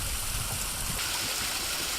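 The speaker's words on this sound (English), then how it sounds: "Old and new waterfalls come to life." Snowmelt water rushes in a steady, broad roar from a Yosemite stream or waterfall, continuous and fairly close with no pauses or voices.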